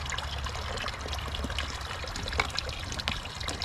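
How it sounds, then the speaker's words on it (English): Spring water trickling and splashing into water bottles at a roadside spring along the Appalachian Trail, a continuous close pour with small irregular splashes and gurgles. "fill all the water bottles up here"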